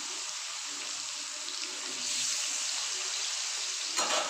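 Fish pieces fry in hot oil for a spicy fish curry, a steady close hiss of sizzling with one sharp spluttering pop near the end.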